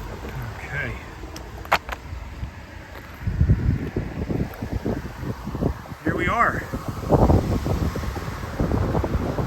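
Gusty outdoor wind near an old railroad line above Route 248 at Lehigh Gap, buffeting the microphone in rumbling bursts that build and fall, with someone talking over it.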